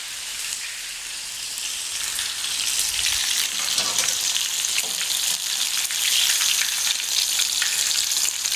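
Egg-dipped breaded food frying in hot oil in a kitchen, a loud, continuous close-up sizzle with crackling bursts that builds slightly and holds steady for about nine seconds, with no talking.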